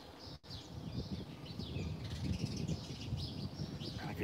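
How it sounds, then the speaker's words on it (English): Small birds chirp and tweet in a quiet, peaceful spot in Nakhon Phanom, Thailand, their calls scattered and fairly faint over soft background ambience, with no talking. "all you hear is the birds pretty much"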